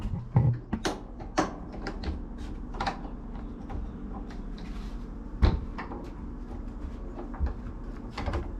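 A barbecue hot box cabinet in a competition trailer has its door opened and shut repeatedly, giving a run of sharp clacks and latch knocks, one heavier thud partway through, with no talking.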